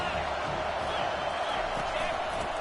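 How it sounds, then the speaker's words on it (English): Home crowd at a college football game makes a dense, steady roar of cheering and noise that holds at an even level throughout, with no single voice standing out. "This crowd bringing the energy and noise early."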